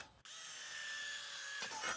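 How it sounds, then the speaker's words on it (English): A power drill bores a hole near the end of a wooden hip board, a steady high whine that starts abruptly and runs evenly for over a second before winding down with a few rougher bursts. "And just drilling it in a little bit from the end is plenty."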